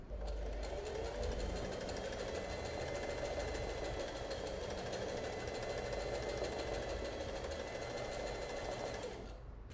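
A sewing machine stitches free-motion zigzag thread painting for an Art Nouveau flower embroidery, a fast, steady mechanical whirring that runs continuously close by for nearly ten seconds, starting and stopping at the edges.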